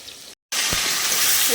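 Pointed gourd (potol) frying in oil in a pan gives a steady, close sizzle that breaks off for a moment, then returns louder and continuous.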